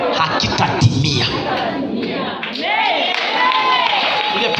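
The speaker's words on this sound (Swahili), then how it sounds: "Uliyepiga makofi angepiga mara mbili zaidi." A church congregation claps in quick, irregular bursts over an amplified preacher's voice and crowd murmur, a busy mix of hand claps and speech.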